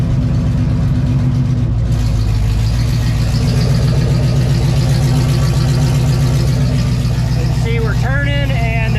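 A 1994 C4 Corvette with a manual swap, its engine running at a steady loud idle close by and rising into a brief rev near the end, with talk alongside.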